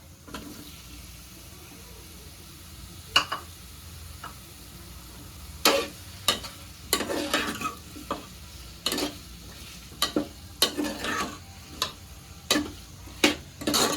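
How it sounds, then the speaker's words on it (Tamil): Tomatoes sautéing in a pan with ginger garlic paste for a restaurant-style prawn gravy, a soft steady sizzle broken by repeated sharp scraping stirs, close and fairly quiet, with no talking. "தக்காளி ஓரளவு வதங்கி இருக்கு."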